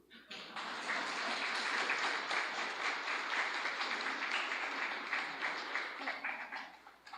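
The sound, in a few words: audience applause for Claire's story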